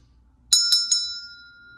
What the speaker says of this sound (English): I'm going to ring the bell because I always do